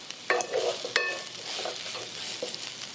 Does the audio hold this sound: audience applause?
no